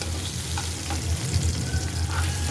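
Chopped garlic frying in oil in a pan, a steady close sizzle with faint crackles running throughout, no talk over it.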